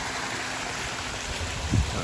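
A backyard waterfall pours steadily into a freshly pressure-washed garden pond, giving a continuous close rushing and splashing wash of water with no voices.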